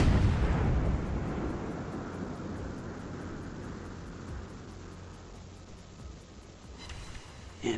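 Naval cruiser guns firing in the World of Warships game, a Baltimore-class heavy cruiser Indianapolis; a loud booming blast opens, followed by a long rumbling roll of distant thunder-like artillery that fades, with a smaller report at the end.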